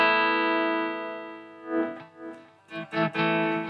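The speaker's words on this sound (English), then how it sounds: "let's go to the clean channel, which is very interesting" A clean electric guitar tone from a Marshall JVM 410H head on the green clean channel through a 1960AV cabinet: a sustained ringing chord fades out, then a few short plucked notes and a final strummed chord follow, with no voice.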